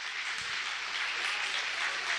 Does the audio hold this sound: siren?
no